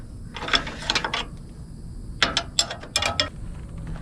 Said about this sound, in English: Just make sure we got this one good and tight.